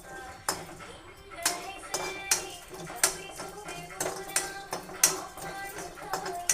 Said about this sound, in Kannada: ಈಗ ಮೆಣಸು, ಜೀರಿಗೆ ಎರಡೂ ಒಟ್ಟಿಗೆ ಹುರ್ಕೊಂಡ್ಬಿಡ್ತೀನಿ ನೋಡಿರಿ.